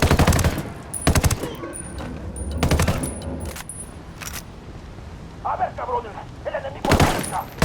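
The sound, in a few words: gunfire in Ghost Recon Wildlands video game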